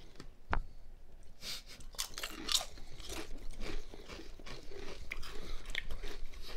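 Doritos Heat Wave chips crunched and chewed up close, a sharp bite followed by a steady run of crisp, crackly chewing with no talking.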